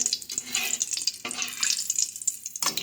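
Kebabs go into hot oil in a pan, and the frying makes a close hiss and sizzle with intermittent stirring clicks and bursts of spattering, with no voices.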